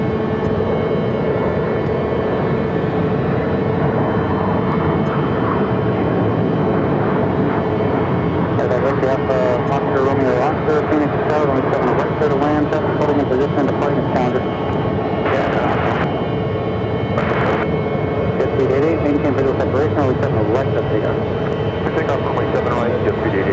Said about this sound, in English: Contour Aviation Flight 3344